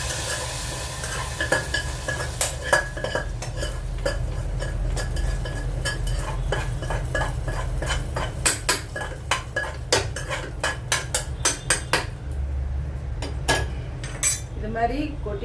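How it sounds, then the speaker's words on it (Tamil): Hot tempering tipped into dal and stirred in a pot for radish sambar, a loud, busy stretch of spoon scraping and clinking against metal over a continuous sizzle, close and steady for the whole stretch. "இது மாதிரி கொட்டிட்டு அதை ஒரு கிண்டி விட்டுருங்க"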